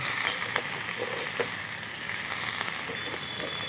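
Homegrown vegetables fry in a pan with a continuous close hiss and crackle, and light stirring scrapes come through at intervals.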